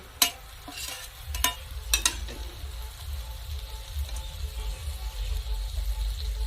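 Green chillies and chopped coriander get stirred into fried spice paste in a pan of oil, a few sharp spatula scrapes over a low continuous sizzle, close and without talk.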